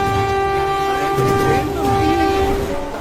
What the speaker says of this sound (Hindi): नहीं, ये ट्रेन तो रुकी ही नहीं,